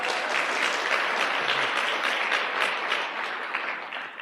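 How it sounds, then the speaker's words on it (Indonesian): Steady, dense applause from a seminar audience at a networking event fills the room, sustained and close, tapering slightly toward the end. "Aplaus buat Anda semuanya."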